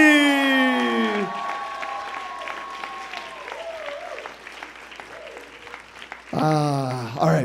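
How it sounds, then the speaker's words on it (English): An audience at a tour event applauds. Crowd clapping runs under tonal, voice-like sounds at the start, then continues on its own, and the voices swell again near the end. "we can keep that applause going"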